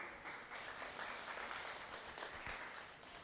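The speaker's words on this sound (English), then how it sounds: "A round of applause." Audience applause at a culinary world championship event in Singapore, a full, steady round of clapping from a crowd, moderately distant and sustained.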